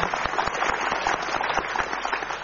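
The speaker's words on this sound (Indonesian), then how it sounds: "Karena itu kita berikan aplaus." A seated audience applauds parents and a husband who are asked to stand, giving a dense, even round of clapping that stays steady throughout.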